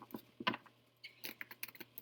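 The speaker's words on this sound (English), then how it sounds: "So we're going to get a couple of shuffles here." A deck of reading cards is shuffled in a quiet room, giving a few short papery riffles and taps in brief bursts over a faint low hum.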